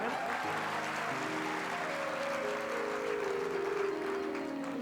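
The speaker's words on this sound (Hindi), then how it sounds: "अब बजाओ ताली" Audience clapping together at a religious discourse, a steady dense wash of applause lasting several seconds at moderate, distant-sounding level.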